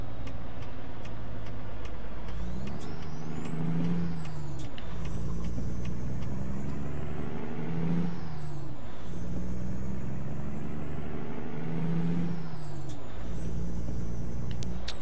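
A truck in a driving video game pulls onto an interstate: steady low diesel engine drone that rises and falls through gear changes, with a whining high tone and sharp ticks from air brake or shifting sounds.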